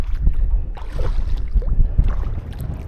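A canoe pushing into a headwind with a split-blade paddle on a Boundary Waters lake: steady rushing wind buffets the microphone, with soft water washes and low rumbling throughout and no talking.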